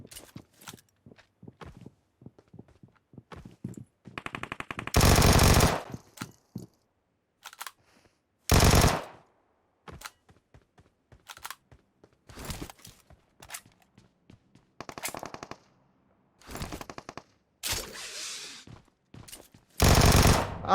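MG3 machine gun fire in the PUBG Mobile game comes in several loud sustained bursts, separated by quieter stretches of footsteps and small clicks.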